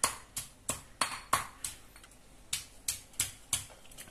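Garlic cloves being pounded in a stone mortar and pestle for umai: a steady series of about a dozen sharp, close knocks at an even rhythm, alone and fairly quiet.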